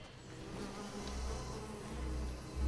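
An insect buzzes among trees in a video game, a low droning hum that swells and fades as if moving nearby, steady and moderately quiet with no voices.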